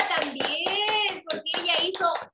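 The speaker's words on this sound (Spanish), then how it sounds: "un aplauso a la Amanda también" A small group of children claps for a classmate's model in a class activity, about eight brisk, rhythmic claps with a short pause partway, while young voices chime in over the clapping.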